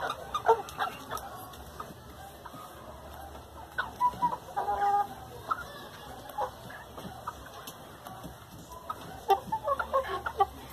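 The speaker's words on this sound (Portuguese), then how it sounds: "Vai ficar um galo danado, vai ficar um galo bom." A young fighting rooster clucks in short, scattered bursts at close range, with soft farmyard background noise and occasional faint animal sounds between the calls.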